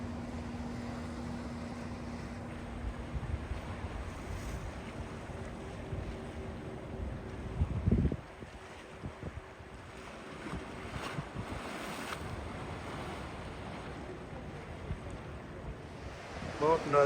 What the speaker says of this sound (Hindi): ये जी गहरे पानी में कश्ती लेके जा रहा है ये।